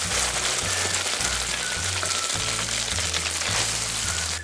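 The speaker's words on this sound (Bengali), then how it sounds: "সয়াবিনগুলো তেলে ফ্রাই করে নেব।" Ground boiled soybeans frying in hot refined oil in a kadai, a loud continuous crackling sizzle heard up close with a low intermittent hum beneath and no voices.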